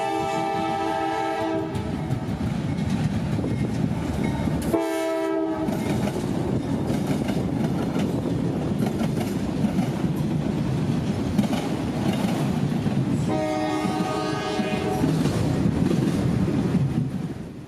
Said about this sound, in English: Pulling into the fairly new railroad park, a headlight and a horn greets us.